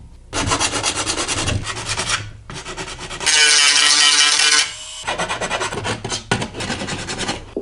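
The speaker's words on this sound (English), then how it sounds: "we've gotten the grill all cleaned up using both a file as well as I used some 180 grit sandpaper" A hand file smoothing the edges of a custom-built Toyota 4Runner grille: loud, close rasping strokes in rhythmic bursts, with a longer harsher stretch of continuous scraping in the middle and no talking.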